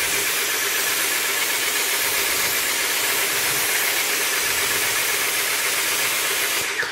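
Water from a hose rinses a car in one loud, continuous, close hiss that carries on steadily without a break and has no talking over it.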